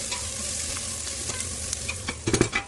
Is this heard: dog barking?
no